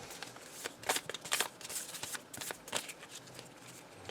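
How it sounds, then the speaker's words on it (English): Waterbending cards for the Aang's Destiny deck-building game are shuffled by hand, a run of crisp riffling bursts in an uneven rhythm, close and moderately quiet, with no talking. "We'll shuffle the new waterbending cards in"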